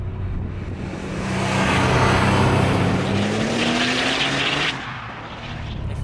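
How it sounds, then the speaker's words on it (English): A RUF BTR2 turbocharged rear-wheel-drive sports car roars at speed, its engine tone rising steadily as it pulls hard, with broad road and wind rush and a slight drop near the end, loud and continuous with no talk. "You've got that extra turbo blow-off, and that power delivery combined with rear-wheel drive."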